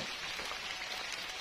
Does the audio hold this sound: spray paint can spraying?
no